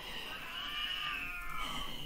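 A cat sings out in one long, drawn-out wavering meow that carries on steadily for about two seconds at close range, with no talking over it.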